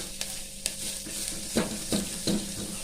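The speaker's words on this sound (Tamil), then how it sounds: "நல்லா வதக்கி விட்டுக்கலாம்." Chilies and spices with turmeric and asafoetida sautéed in a pan for tomato rasam, a soft steady sizzle broken by several sharp scrapes and clinks of a spoon stirring against the pan, close up with no talking.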